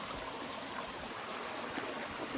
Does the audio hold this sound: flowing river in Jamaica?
yes